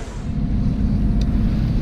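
Steady wind noise buffeting the microphone on a sailboat anchored off Cassis in the Mediterranean, a continuous low rumble with no talking.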